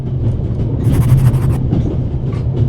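A train rolls steadily along in the adventure game The Raven, with a deep continuous low rumble and a brief brighter rattling burst of wheels on track midway, close and constant throughout.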